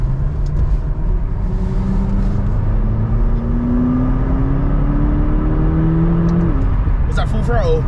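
An Audi RS3 running on race fuel accelerates at full throttle, its engine note climbing steadily and loudly through the gears from inside the car, with a voice briefly at the end.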